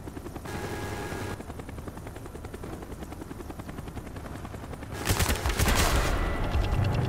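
A helicopter in the Call of Duty Black Ops multiplayer game, its steady rotor chop thrumming throughout, joined midway by a louder burst of rapid gunfire.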